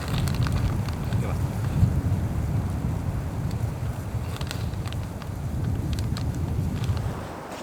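Strong winter wind buffets and roars in low rumbling gusts along an icy trail in Finland, loud and continuous, easing slightly toward the end.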